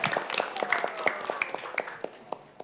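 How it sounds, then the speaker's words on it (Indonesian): Sparse, light clapping from a small quiz show audience, scattered claps fading out over a couple of seconds, with a faint voice underneath. "Boleh tepuk tangan dulu teman-teman."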